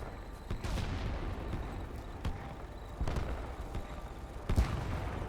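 Shooter game gunshots heard as a handful of sharp, widely spaced reports over a steady background rumble, moderately loud with no clear talking.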